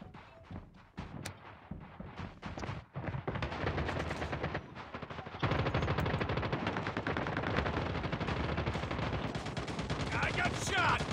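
Sustained automatic gunfire in the Call of Duty video game, dense rapid bursts building into continuous loud firing, with scattered single shots early on.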